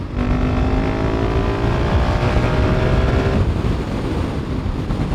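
A KTM 690 SMC R supermoto motorcycle accelerates hard after a downshift, its single-cylinder engine rising in a loud, continuous climbing drone against heavy wind rush.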